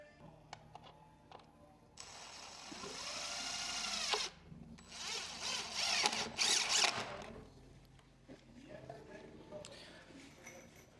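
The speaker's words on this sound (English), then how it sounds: "an impact drill is way easier to use on this project" Impact drill driving fasteners during window installation on a six-unit building, two long bursts of high whirring and rattling hammering separated by pauses, close and loud, with people talking faintly in between.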